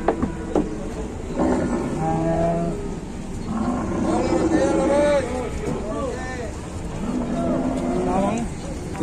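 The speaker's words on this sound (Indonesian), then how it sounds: "Di sebelah sini juga ada sapi super mau ngamuk ini." Agitated cattle being unloaded from a truck, lowing repeatedly at close range, overlapping moos that rise and fall, with people talking and a crowd murmuring underneath.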